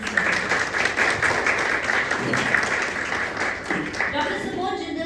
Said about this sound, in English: Let's express our gratitude with a big round of applause for Sir's presence on this stage.